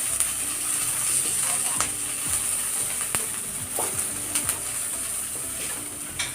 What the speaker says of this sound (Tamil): பச்சை மிளகாய், நல்ல கலர் மாறுவது வரைக்கும் வதக்குங்க.